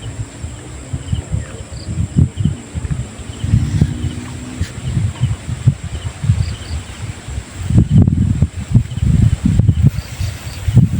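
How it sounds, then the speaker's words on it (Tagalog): Strong wind gusting through a small tree outdoors, heard as a steady low rumble and buffeting roar with repeated surges, close and loud throughout with no talking. "Malakas pa yung hangin."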